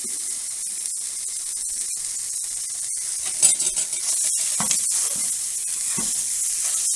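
Chorizo sizzles steadily in a greased pan, a continuous bright frying hiss with scattered scraping and stirring knocks as the sausage is broken up, no talking.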